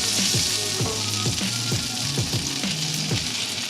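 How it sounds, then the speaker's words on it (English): Butter and flour sizzle and crackle in a pan as a roux for Swedish meatball sauce comes together, a close, steady frying hiss with regular scraping strokes from stirring, no voices. "we're going to start by creating a roux, melting some butter, and then adding in some flour."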